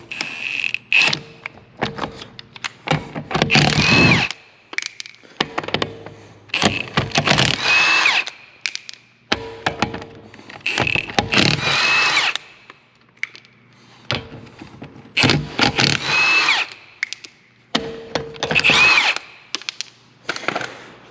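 A power tool works on the wheels of a 1987 Porsche 924S during a tire swap, firing in about six loud, close bursts of whirring with short quiet gaps between them.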